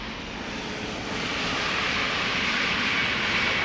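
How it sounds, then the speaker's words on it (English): An EasyJet Airbus A320neo arriving at Amsterdam Schiphol Airport, its steady jet roar swelling as it draws nearer, heard alone without talk. "EasyJet A320neo."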